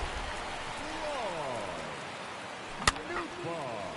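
Steady rain falls in a baseball video game, a soft continuous hiss under play-by-play commentary, with a sharp crack at one point.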